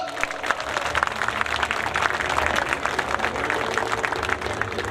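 Hearty audience applause for a children's performance at an ex-servicemen association function, a full, steady clatter of many hands in a hall, loud and sustained throughout.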